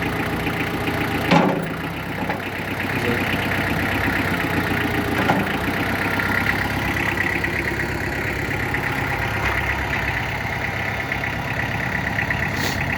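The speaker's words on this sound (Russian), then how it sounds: "Фронтальная установка поднимается, опускается." A Mitsubishi tractor's engine idles steadily while its front loader raises and lowers, a close, continuous mechanical chug with a few clanks and knocks from the loader and no talking.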